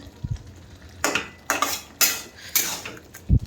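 A spoon scrapes through eggplant curry with boiled potatoes in a pot in about five separate strokes roughly half a second apart, each a rough, close scraping swish, with a couple of soft low knocks at the start and end.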